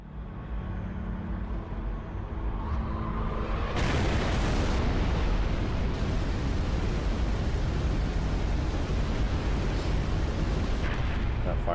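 Heavy Wraith tank cannon fire in a Halo 3 multiplayer map booms out at close range, a sudden loud blast swelling into a long, rumbling roar that fills the scene with sustained low-end noise.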